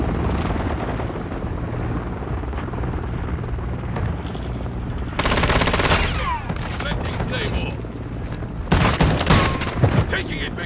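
Call of Duty gunfire: bursts of automatic weapon fire and booms over a constant rotor-like drone, with the loudest volleys near the middle and end, alongside in-game voice sounds.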